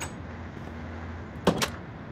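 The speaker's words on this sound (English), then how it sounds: "I shut the door in my face." A door is shut with a short sharp thump followed by a quick second knock, close by, against a quiet room hum.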